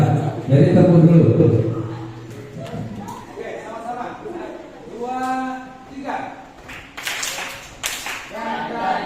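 A group claps hands together at a teachers' school recognition event in Indonesia, with a burst of clapping at the start and scattered claps after it, mixed with speaking voices.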